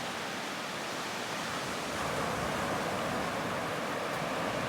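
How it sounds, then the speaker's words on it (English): Steady broadband wash of surf as the tide creeps in over a wide, rugged sand beach on the West Coast, swelling slightly louder midway, continuous with no voices. "You can slowly watch the tide coming in"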